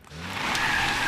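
A car reversing hard with its tyres skidding: a loud, close, rising squeal sits over a rough engine rumble and grows steadily for about a second.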